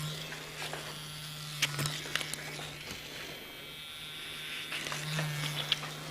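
A heated electric razor cuts through hair and gives off a steady low electric hum. Soft snipping and brushing sounds sit over the hum, and there is faint background noise.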